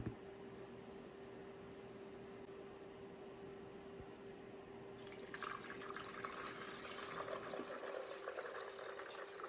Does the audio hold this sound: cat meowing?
no